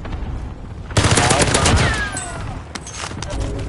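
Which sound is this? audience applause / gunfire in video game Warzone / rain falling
gunfire in video game Warzone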